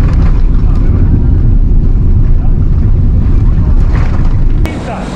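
An airplane landing in the Maldives gives a loud, continuous roaring rumble with wind buffeting close to the microphone, dropping to a lower level near the end.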